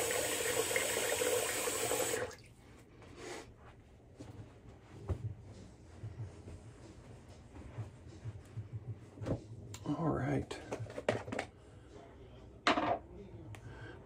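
Tap water runs loudly into a sink for about two seconds while fingers are rinsed, then cuts off, followed by quiet handling noises and intermittent talking.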